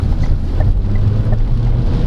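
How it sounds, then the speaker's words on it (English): A 2023 Changan CS35 Plus Luxe subcompact crossover accelerates at full throttle in drive mode, its steady engine drone and rush of wind noise filling the cabin loudly and continuously, with no talking. "just leave it on drive mode and just floor it"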